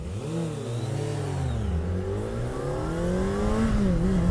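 A 2017 Honda CBR600RR sport bike engine revs loudly and steadily, its pitch rising and falling through several sweeps as the rider works the throttle, with no speech over it.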